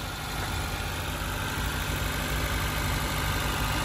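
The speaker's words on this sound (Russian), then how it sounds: "так мотор же работает" A flood-damaged 2018 Honda Insight Touring hybrid, bought at auction, idles with a steady, even engine drone and constant low rumble, close and unbroken for a few seconds, with no talking.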